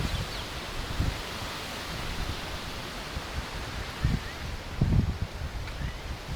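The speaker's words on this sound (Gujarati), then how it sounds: "ફૂલ પવન આવે" Gusty wind blows through village trees ahead of an approaching rainstorm, a steady broadband rush with leafy rustling that swells in a few brief gusts, alone without talk.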